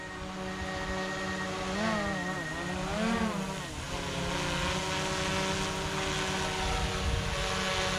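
DJI Mavic 2 Pro quadcopter drone lifting off outdoors, a steady near propeller whine with pitch sweeping up and down as it climbs, layered over a constant motor drone, with no talk.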